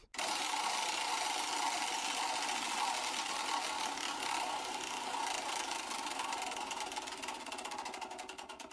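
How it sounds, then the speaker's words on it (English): A prize wheel spins in a steady continuous whir and rattle of rapid clicking that holds loud for several seconds, then gradually thins and slows toward the end, with no voices over it. "let's spin the wheel"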